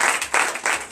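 A church congregation at a Sunday worship service in Benin claps in rhythmic bursts, with roughly three or four pulses in quick succession. The clapping sounds close and lively, and nobody talks over it.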